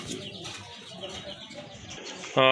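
Pigeons coo and chirp in a busy loft or market stall among red Bombay pigeons, a steady murmur of calls under a voice, with a louder burst near the end.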